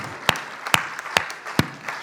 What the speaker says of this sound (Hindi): मैं भाव विभल हूं आपकी इन तालियों को लेकर के